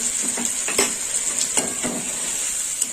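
Spice paste with ginger paste is stir-fried in a pan for a green banana ball curry, steady sizzling broken by repeated spoon scrapes and taps against the pan.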